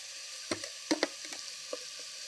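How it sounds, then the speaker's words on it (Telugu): Ridge gourd, chana dal and tomatoes fry in a pan for a Telugu-style curry, with a faint steady sizzle broken by a few sharp clinks and stirring knocks, close by and with no one speaking. "మూత పెట్టుకొని ఒక రెండు నిమిషాలు వేయించుకుందామండి"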